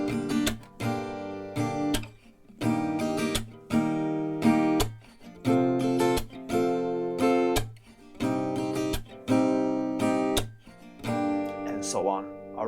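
Acoustic guitar strummed in a steady repeating pattern, bursts of chords separated by short gaps, close and moderately loud with no talking.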